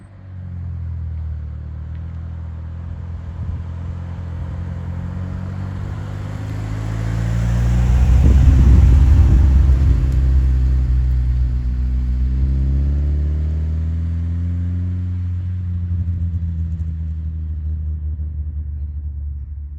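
A Mitsubishi Eclipse GS-T rumbles along from the cabin with a low, steady engine drone, swelling as it accelerates midway and then easing back into a smooth cruise.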